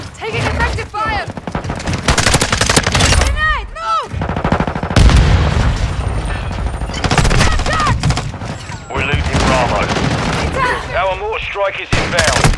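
Gunfire in Call of Duty: Modern Warfare 2 multiplayer, dense rapid bursts and overlapping shots that run loud and close almost without pause, while voices call out over the shooting.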